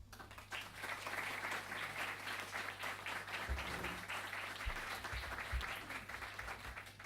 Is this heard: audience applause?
yes